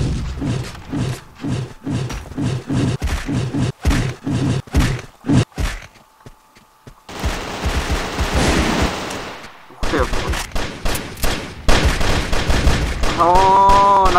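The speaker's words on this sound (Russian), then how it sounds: "нас расстрелял Сивач 888" Gunfire in the online shooter Contra City: dense bursts of rapid shots in quick volleys, loud and close, broken by a short lull and then more sustained firing with a clattering, noisy texture.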